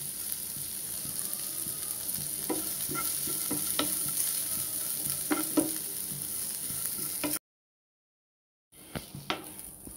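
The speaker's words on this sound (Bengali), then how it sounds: "অল্প একটু তেল দিয়ে নিলাম, এই তেলের মধ্যে এগুলো ছেড়ে আমি একটু ভেজে নেব।" Spices and a few grains of rice frying in a little oil, with a steady close sizzle broken by stirring clicks and scrapes. The sizzle cuts off briefly near the end, then returns.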